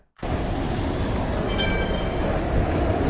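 A train roars past in a steady, loud rumble with a brief high metallic squeal near the middle, suggesting a train collision clip; continuous heavy noise from start to finish with no talking.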